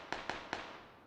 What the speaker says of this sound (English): Couple of gunshots going on here between Rocket Esports and Poofy.